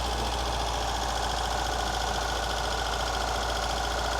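An old Ford barn-find engine, left hidden for 14 years, idles while warming up with a steady, even, slightly knocking mechanical hum that stays close and constant, with no talk over it.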